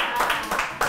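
Brief audience clapping at a live talk event, a few scattered claps with sharp onsets rising over a busy room, close and moderately loud.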